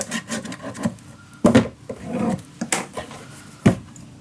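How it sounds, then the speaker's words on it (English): Chipboard pieces are burnished down by hand, heard as dry, close scraping and rubbing strokes in uneven bursts, with a few firmer knocks between them and no speech. "I'm gonna burnish it down in just a second."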